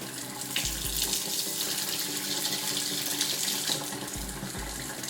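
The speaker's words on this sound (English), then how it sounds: "So let's go ahead and fill this up with some hot water." Hot water runs steadily from a tap into the tank of a Bissell Little Green ProHeat carpet cleaner, a continuous close splashing stream with a few light knocks and no talking.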